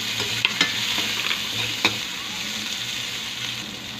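Onion sautéing in a pan alongside ginger and garlic for paksiw na isda, a steady close hiss of sizzling oil with a few light stirring knocks.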